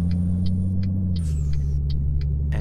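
A Peterbilt 389 truck engine in Euro Truck Simulator 2 drones low and steady with a faint whistling turbo whine and regular ticking clicks, sounding synthetic like a game.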